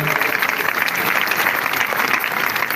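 A stadium crowd gathered for a funeral service applauds for the Lord, a loud, sustained wash of clapping that fills the whole stretch without pause.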